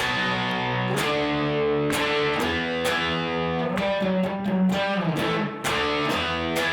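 A distorted electric guitar riff of chunky power chords, played loud and alone with sharp rhythmic attacks and brief gaps between phrases.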